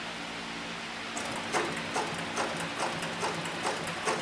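Leather sewing machine on a variable-speed servo motor at its slowest setting, stitching soft, pliable leather, giving a steady series of light mechanical clicks and taps close by after a quiet start.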